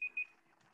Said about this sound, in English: make my phone timer stop